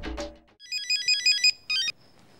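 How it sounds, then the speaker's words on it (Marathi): An incoming-call phone ringtone plays a bright electronic melody of repeated short beeping notes, rings twice with a brief pause between, after a voice speaks at the start. "मला माहिती होतं तुम्हाला फोन करशील सुलेखा."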